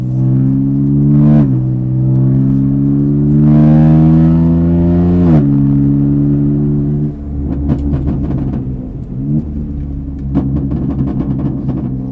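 A BMW race car accelerating hard on the Mireval circuit, its engine note rising in steady pulls, then a quick shift and a harsher, rattling roar as it drives on, loud and close with no talk.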